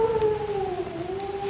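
A long, wavering howl echoes through a spooky comedic haunted-dungeon scene, a single sustained tone that slowly slides downward.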